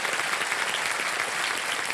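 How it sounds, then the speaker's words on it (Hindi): Studio audience applause on a televised quiz show, a steady, dense wash of clapping from many hands that holds at an even level throughout, with no talking over it. "तो ताली बज जाए इसके लिए"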